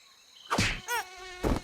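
A mosquito buzzing in a close, high-pitched whine that comes in three short, wavering bursts separated by brief gaps, with no one speaking.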